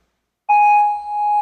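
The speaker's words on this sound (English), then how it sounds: "You're going to stay on that platform until you hear this countdown." A single clear electronic tone sounds for about a second after silence at the start of a children's obstacle course, loud and close with a steady pitch.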